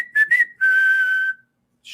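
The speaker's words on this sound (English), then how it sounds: "We had the manual whistle. Now let's get the strikeout whistle." A strikeout whistle sound effect during a Yankees versus Indians baseball game, heard up close as two short whistle chirps and then one longer sustained whistle tone, with no voices.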